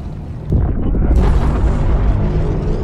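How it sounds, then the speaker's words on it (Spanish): A powerful explosion in the Fortnite video game's Zero Point live event, opening with a sharp burst and swelling into a loud, sustained rumbling roar that fills the rest of the moment. "Primera explosión del directo."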